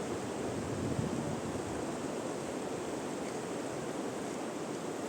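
Cold meltwater river rushing down from snowy mountains near Jispa in Himachal Pradesh, a steady broadband roar with no breaks, heard from the bank without voices.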